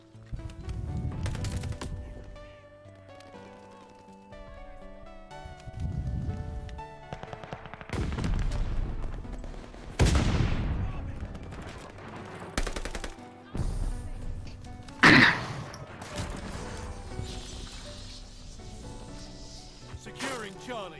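Gunfire with subsonic rounds in Call of Duty Vanguard, heard as a few loud close shots and short bursts scattered among game music and effects, with someone talking over the action.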